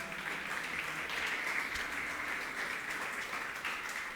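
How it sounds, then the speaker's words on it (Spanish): Church congregation applauding during a Sunday morning service, a steady dense wash of clapping that holds at an even level throughout with no voices on top. "Dale una fuerte aplauso al Señor en esta mañana."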